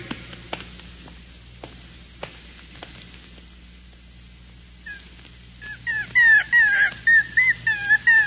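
A few sharp knocks and clicks, then a small puppy breaks into a string of high, wavering whimpers and whines that grow louder near the end.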